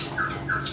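Short, sharp squawks from a captive cabai-cabean flowerpecker, two distinct high calls close to the microphone over faint background hiss.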